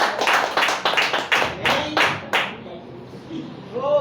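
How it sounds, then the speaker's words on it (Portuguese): A church congregation claps for a preacher in a short run of loud, separate rhythmic hand claps. The claps fade out after a couple of seconds into quieter room noise, with a voice briefly rising at the end. "receba o servo de Deus com palmas e glória a Deus"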